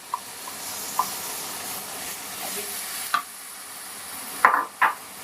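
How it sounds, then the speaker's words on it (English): Tomato puree goes into dal makhani in a hot pan, giving a soft steady sizzle with several sharp scraping stirs and clinks, and no talking. "Now we put in our tomato puree"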